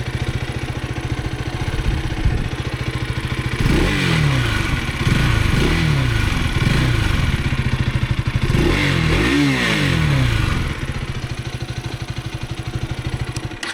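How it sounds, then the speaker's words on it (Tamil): A Bajaj Pulsar NS200 motorcycle idles nearby, then its engine is revved with the throttle in several rising and falling bursts before settling back to a steady idle. "த்ராட்டில் கொடுத்து பார்க்கலாமா?"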